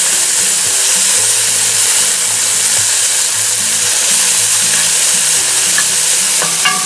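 Bacon sizzles and renders in a Dutch oven set over campfire coals, a loud, steady hiss of frying fat that runs unbroken throughout, with a low background hum beneath.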